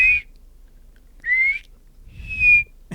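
A person whistles a single-note bird contact call three times, each a clear, fairly loud sliding tone separated by brief silences, with a short thump at the very end.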